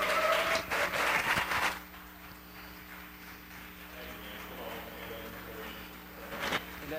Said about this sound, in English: the clapping behind me